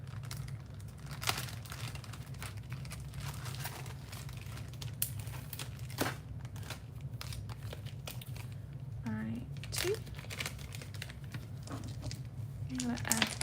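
Plastic bag crinkling in short bursts while beads are sorted, with scattered small clicks and rustles over a steady low hum; a person talks at times.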